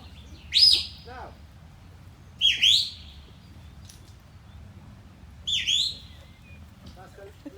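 A shepherd's left-command whistles to a sheepdog: three sharp rising-and-falling whistles, evenly spaced a couple of seconds apart, shrill and fairly close against a low background hum.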